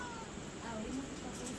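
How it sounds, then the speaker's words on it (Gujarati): A cat meows faintly in the background, a short thin cry under steady room noise with no clear talk. "બિલ્લી આવી"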